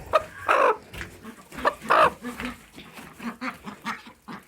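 Hens, including a broody hen, cluck nearby in short, uneven bursts, a few louder squawky calls mixed with softer low clucks.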